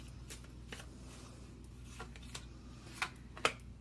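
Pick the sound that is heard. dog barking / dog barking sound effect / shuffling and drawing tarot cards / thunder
shuffling and drawing tarot cards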